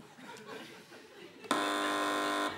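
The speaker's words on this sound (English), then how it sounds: "fingers back on buzzers" A loud electronic quiz show buzzer blares for about a second after a stretch of quiet murmuring and light laughter from a TV panel show.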